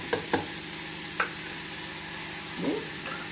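Ingredients for potato kurma sautéing in a pan, a steady low sizzle with a few sharp scrapes of a spoon against the pan and a soft stir near the end, close and alone without talk.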